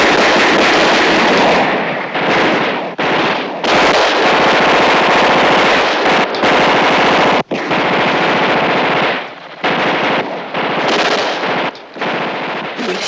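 Sustained machine gun fire in a Vietnam War film battle scene, loud rapid bursts of automatic gunfire rattling almost continuously, broken by a few brief pauses between volleys, close and dominant.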